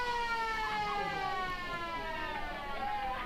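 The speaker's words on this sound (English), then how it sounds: "There's the siren." Siren sounding at the end of a country Australian football match between the Lions and Tigers: a sustained, wavering tonal wail, steady and fairly prominent over crowd noise throughout.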